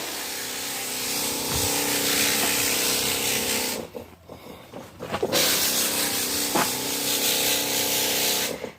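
A sprayer hisses steadily over strawberry plants in a greenhouse against pests, a near continuous spray broken by a short pause around the middle before resuming just as loud.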